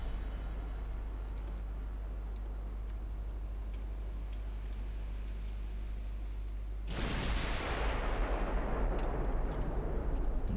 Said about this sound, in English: And we see fire from the last ship coming in from here.